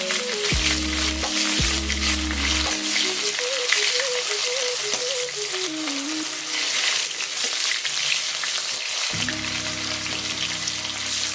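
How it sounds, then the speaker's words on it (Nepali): Onions fry and get stirred in a pan for a Nepali-style yam curry, a constant close sizzle with occasional stirring, accompanied by background music. "प्याज हालेपछि त्यसलाई मजाले चलाउँ।"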